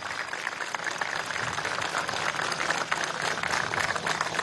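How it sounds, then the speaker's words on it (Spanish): Crowd applause at an outdoor military exercise greets sea commandos returning from a drill, a steady dense wash of clapping that holds throughout without pause. "un aplauso a los comandos que vienen del ejercicio"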